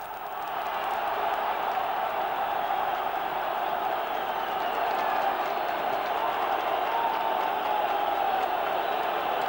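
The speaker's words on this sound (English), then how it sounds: "Bulgarian crowd on its feet." Bulgarian football crowd in a stadium during a 1987 European Championship qualifier against Ireland, a loud continuous roar of cheering that holds steady throughout, dense and distant-sounding across the whole stands.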